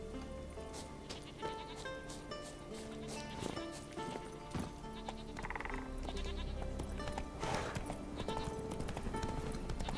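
Hooves of a horse galloping in The Witcher 3 video game: a quick, steady clip-clop rhythm that runs throughout, mixed with in-game music or ambience and light bleating animal calls.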